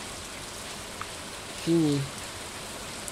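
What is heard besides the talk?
rain falling in the video game Stardew Valley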